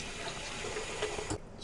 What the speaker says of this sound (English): I'm going to fill up my sink with water here and get started.